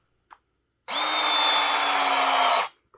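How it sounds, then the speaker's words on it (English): A Ryobi P660 18V battery-powered PEX crimper closes a clamp onto pipe with one steady motor whine lasting nearly two seconds, close and clear, preceded by a faint click. "we have a battery powered Ryobi PEX crimper"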